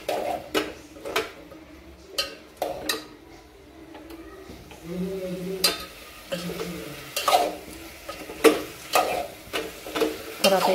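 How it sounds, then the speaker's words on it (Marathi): Drumstick pods being stirred into a sizzling tempering in a pan, with repeated sharp spoon scrapes and clacks against the metal over a soft background sizzle, close by. "हे आपण फोडणीत छान मिक्स करून घ्यायचे आहे शेवग्याच्या शेंगा"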